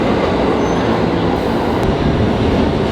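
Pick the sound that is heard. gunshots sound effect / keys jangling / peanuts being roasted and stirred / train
train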